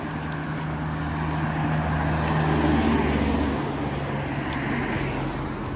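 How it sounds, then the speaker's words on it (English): Steady roar of car traffic on a busy road beside a walking path between Firswood and Chorlton, a continuous loud wash of engines and tyres with low rumble swelling slightly mid-clip. "I'm sorry for the noise of the cars,"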